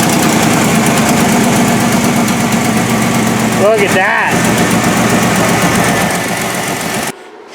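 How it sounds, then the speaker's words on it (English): A Chevy V6 engine runs steadily at idle with a raspy, ticking exhaust note from an exhaust leak, someone briefly speaking over it before it cuts off. "She runs, but she's got an exhaust leak"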